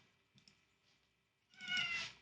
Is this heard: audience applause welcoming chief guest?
no